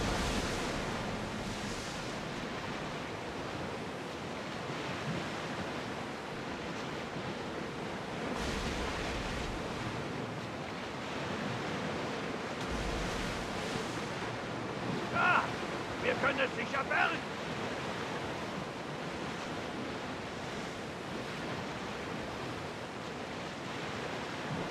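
Sea waves in Assassin's Creed Odyssey wash steadily in a continuous broad roar, loud and constant, with a few brief thuds and creaks mixed in around the middle.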